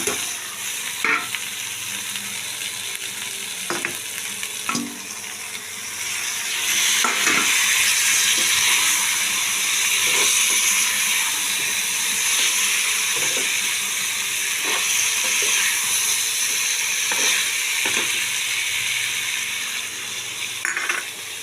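Potatoes are stirred in a hot pan with garam masala, a continuous loud sizzle and hiss of frying broken by repeated spoon scrapes and knocks against the pan, with no voices.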